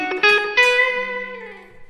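An electric guitar plays a blues intro lick over a 12-bar blues, a few quick clean plucked notes followed by a sustained bent note ringing out and slowly fading, played alone.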